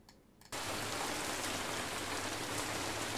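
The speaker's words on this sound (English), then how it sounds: "So now I have my rainfall sounds plugged into the mixer." Layered rainfall effects mixed together for an Unreal Engine 4 game scene kick in abruptly after a brief quiet moment, then run as a dense, steady hiss of rain on surfaces.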